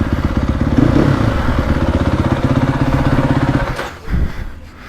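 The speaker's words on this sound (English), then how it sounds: "with the Akrapovich, this bike has a lot more zing to it" A KTM 450 Factory Edition motocross bike fitted with an Akrapovic exhaust runs loud and close, its engine pulsing steadily before dropping off sharply near the end.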